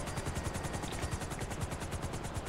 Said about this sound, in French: Monte en hélico